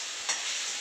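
Ground garlic paste sautéing in hot ghee gives a steady, close sizzling hiss with a brief louder flare near the start of the short burst.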